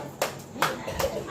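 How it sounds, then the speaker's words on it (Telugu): Clapping for the prize winner at a child's third birthday party at Sterling Homes: three evenly spaced claps stand out over a murmur of background voices. "give her big claps"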